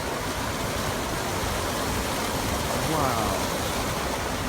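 Water rushes across a road on a mountain route in Appalachia, a loud continuous hiss and roar close by, with a short exclaimed word and faint engine rumble underneath.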